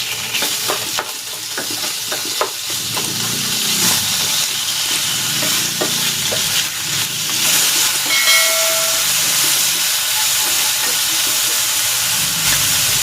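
Chicken pieces go into a pot with onions and onion leek whites for cabbage noodle soup, bringing a steady, close frying sizzle and hiss with occasional stirring clatter, no talk.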